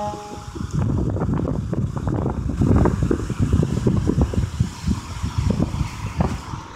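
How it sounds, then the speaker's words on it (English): Gusts of beach wind buffet a camera microphone at Myrtle Beach, South Carolina, a loud, rough, low rumble that surges and dips continuously for several seconds with no talking. "I'm just trying to block this wind as much as possible."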